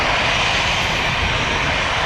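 An Airbus A320 at Toronto Pearson airport, its jet engine a loud, steady broadband roar that fills the whole moment without any voices.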